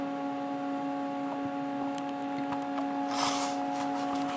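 A CNC milling machine runs a program without coolant, cutting an eye retrofit part for a Shocker NXT paintball marker: a constant tonal motor hum with light ticks and scattered brief cutting noises, no talk.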